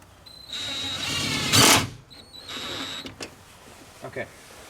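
Power drill whirring as it drives a screw into a truck fender flare on a Ford F150, two short motor runs rising in pitch, close, followed by clicks and handling knocks with a voice nearby.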